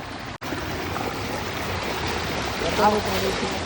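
Fast-flowing floodwater from heavy rain in Junagadh rushes in a steady, loud roar that fills the whole scene, with a brief voice rising faintly near the end.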